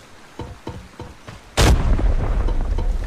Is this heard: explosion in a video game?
yes